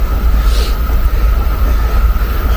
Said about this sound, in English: I'm right now passing by the Shinkansen, so you'll hear a pretty loud sound right now as we're passing by here